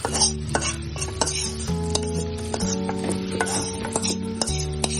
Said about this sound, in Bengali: এটা তেলের মধ্যে চাল আর ডালগুলো ভালোভাবে কিছুক্ষণ নেড়ে চেড়ে ভেজে নিতে হবে